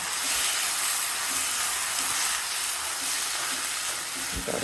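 Hibiscus flowers with tomato and garlic sizzle in a hot kadai left on its own heat after the gas is turned off, giving a steady, loud, close hiss that runs throughout.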